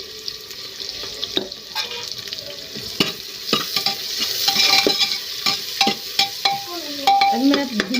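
Onion frying with chili in a pan, crisp sizzle broken by frequent spoon scrapes and stirring strokes, close and lively, with no voices.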